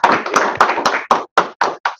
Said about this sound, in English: have a great applause again for everyone